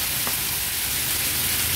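Peas and boiled potatoes sautéing in a pan, a steady, dense hiss of frying that stays even and fairly loud throughout, with no talking.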